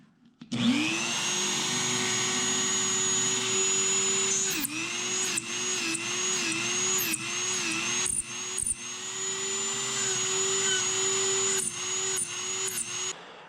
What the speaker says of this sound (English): I got the Dremel 3000, and I just put on a little sanding bit on it.